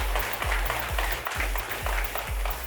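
Conference audience at a data and analytics summit panel discussion applauding a panelist, a brief patter of clapping under a low rhythmic background thump.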